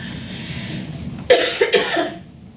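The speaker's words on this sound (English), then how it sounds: "obviously I need to cough" A single person coughs a few times in quick succession, close and fairly loud, after a moment of quiet background.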